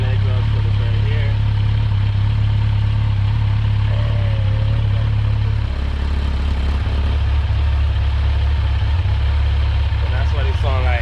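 A Kawasaki Z900 motorcycle engine idles with a steady, deep, loud rumble as its exhaust setup is compared, the low tone shifting partway through, with someone talking briefly over it.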